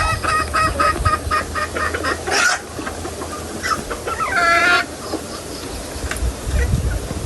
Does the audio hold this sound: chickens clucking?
yes